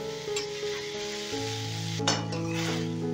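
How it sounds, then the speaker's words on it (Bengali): Bean mash for a Bangladeshi-style seem bhorta frying in a pan while a spatula stirs and scrapes it, giving a steady close sizzle with soft scraping strokes throughout. "ভাজতে ভাজতে যখন মন্ড মতন হয়ে যাবে তখন খুন্তি দিয়ে এইভাবে ভাজতে হবে, যতক্ষণ না ভর্তার মতো হচ্ছে"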